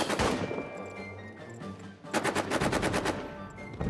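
Rapid bursts of machine-gun fire from the trench-warfare video game All Quiet in the Trenches, a sustained volley at the start, then a short lull and a second loud rattling burst, with faint battle noise between.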